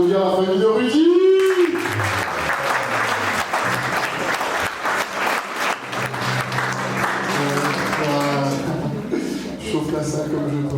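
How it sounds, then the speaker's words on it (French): Wedding guests applaud the groom's family in a hall, a sustained round of clapping under an amplified voice, with chuckles and crowd murmur mixed in. "Est-ce qu'on peut en profiter donc pour applaudir la famille de Rudy?"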